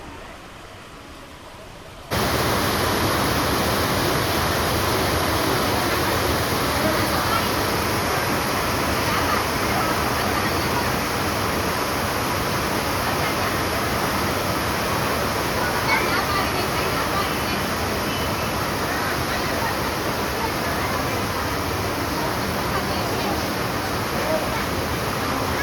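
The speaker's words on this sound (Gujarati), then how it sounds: "ધોધમાર વરસાદ ચાલુ થઈ ગયો છે." A heavy downpour falls at the temple town of Bagdana, Gujarat, its dense, roaring hiss cutting in abruptly after two quiet seconds and then pouring on loud and unbroken.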